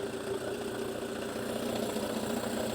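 A two-stroke outboard motor with its fuel shut off and air vent closed runs on, a steady, fairly faint idling drone with a slight rough vibration.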